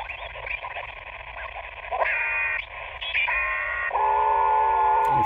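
An FT8 digital mode signal comes through a Sony ICF-SW55 shortwave receiver as a cluster of steady warbling tones over hiss, with the tones stepping in pitch as the dial moves, moderately loud.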